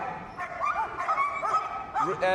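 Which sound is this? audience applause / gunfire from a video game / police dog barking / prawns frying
police dog barking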